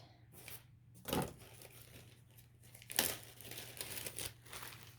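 Hands rummage through a small bag of paper craft flowers, giving quiet crinkling and rustling with two sharper crunches of paper, close up against a steady low hum.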